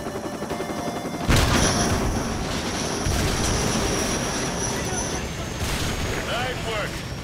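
Steady gunfire in a Call of Duty Modern Warfare campaign battle, with a loud onset followed by sustained rattling shots and a persistent mechanical drone.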